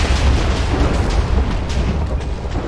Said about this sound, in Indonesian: Kita bakalan coba bikin TNT arrow